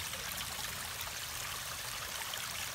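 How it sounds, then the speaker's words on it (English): A small forest stream trickles steadily along an Appalachian trail in Virginia, a continuous soft wash of water, close and even, with no voices. "found this trickle of a stream"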